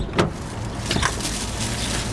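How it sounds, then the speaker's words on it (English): A car idling close behind gives off a steady low rumble that runs throughout, with a faint click and rustle near the start and no one talking. "There's like a rumble. I think it's the car behind me."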